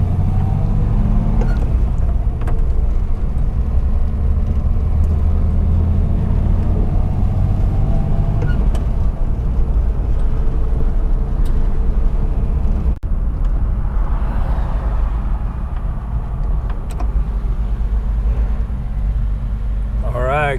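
A 63-year-old car engine idles and runs steadily while warming up in hot 110°F weather, a loud continuous low rumble filling the whole stretch with little change.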